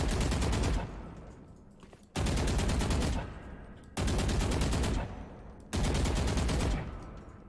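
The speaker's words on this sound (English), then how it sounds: "while you're shooting 10 rounds" Rifle sprays in Valorant, each a dense run of about ten rounds of loud automatic fire, repeated four times with short gaps between bursts.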